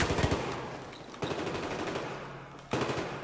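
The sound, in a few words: gunfire in a multiplayer shooter video game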